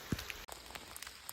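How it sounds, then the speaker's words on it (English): Rain falling in the woods on a long-distance hiking trail, a soft, steady patter of drops on leaves and ground with a few sharper nearby taps, faint and continuous. "But still raining here"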